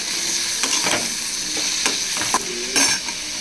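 Curry leaves with onion fry in a pan with a bright, steady sizzle, punctuated by several scraping clacks of a spatula against the metal.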